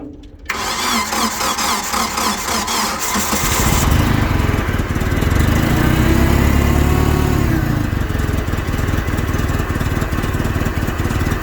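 A Komatsu FG25 forklift engine cranks briefly, then catches and roars into a loud, steady, rumbling run that continues to the end, with no voices.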